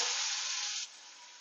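Chopped onion dropped into hot oil in a pan, a bright steady sizzle that drops abruptly to a softer, quieter frying hiss partway through.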